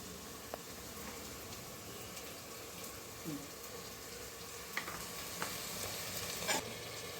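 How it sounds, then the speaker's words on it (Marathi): Homemade masala of chili powder, turmeric and salt roasting in a pan gives a faint, steady sizzle, with a few soft scrapes and clicks from stirring and no voices. "छान मसाला भाजलाय."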